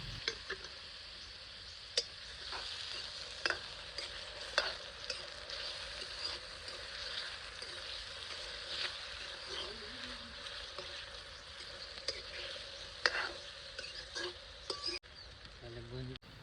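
Tomatoes and green chillies fry quietly in a pan for garlic curry, a low continuous sizzle broken by scattered clicks and scrapes of stirring, faint and close.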